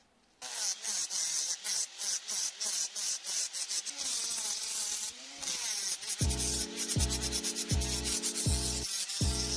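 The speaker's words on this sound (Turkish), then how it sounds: "her zaman yapacağımız şey yüzeyimizi zımparayarak başlayacağız" Hand sanding a wood surface with 80-grit sandpaper: close, rhythmic back-and-forth rasping strokes, speeding into quick regular passes toward the end.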